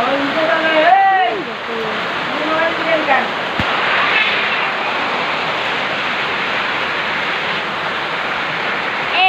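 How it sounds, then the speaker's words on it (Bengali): Rainwater pours down in a steady, loud rush, with a few voices speaking briefly near the start. "বৃষ্টিতে একটা জল পড়ে যাচ্ছে"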